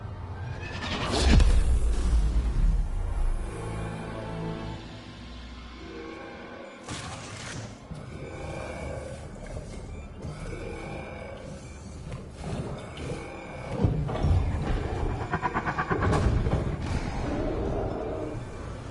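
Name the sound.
EMP being fired in Mass Effect video game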